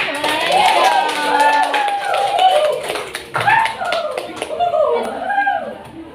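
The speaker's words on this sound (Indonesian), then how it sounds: "Tepuk tangan untuk kita semua." A classroom of schoolchildren claps together after a guided teaching lesson, uneven hand claps mixed with children's voices and chatter, fairly close and lively.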